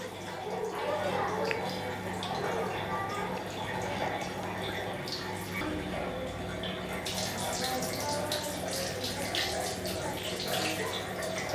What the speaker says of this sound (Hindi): तो ठंडा पानी भी हमें पैर पर, पूरे पैर पर इसी तरह से डालना है।